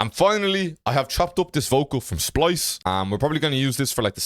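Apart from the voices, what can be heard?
None of the usual background noises is heard.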